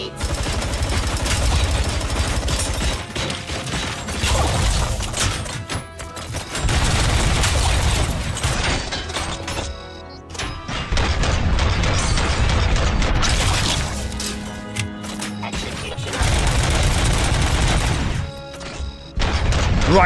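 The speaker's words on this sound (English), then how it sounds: "Let me try this assault rifle out." An assault rifle firing in the video game Robocop: Rogue City, long dense bursts of rapid automatic gunfire with crashes and impacts, broken by a few short pauses.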